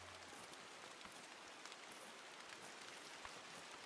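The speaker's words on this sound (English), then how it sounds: "With this rain, it makes it virtually impossible to hear anything." Steady rain in the hunting game The Hunter: Call of the Wild hisses evenly and fills the whole scene, with no voices over it.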